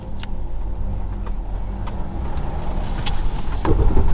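A car engine runs steadily after being started, a low continuous rumble with wind noise buffeting the microphone and a slight rise in level toward the end.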